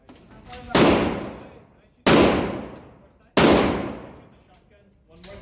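Three loud, close gunshots from real firearms at an indoor shooting range, evenly spaced about a second and a half apart, each a sharp crack followed by a long fading reverberant tail.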